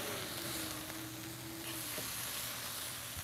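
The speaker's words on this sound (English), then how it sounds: "Put our burger patties directly over the heat, and we're just giving these a couple minutes per side." Burger patties sizzle steadily over direct heat on a hot Oklahoma Joe's grill, a continuous close frying hiss with no talk over it.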